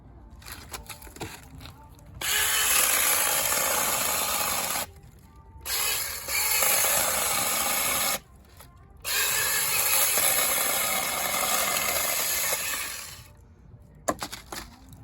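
A DEWALT powered pruner cutting branches, a loud close mechanical whirring that runs in three long bursts separated by short pauses, with faint clicks and handling noises between.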